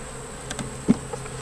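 Honey bees buzz faintly around a hive with a red-marked queen, few bees and many beetles: brief soft buzzing passes over a steady background hum, with one slightly louder pass near the end.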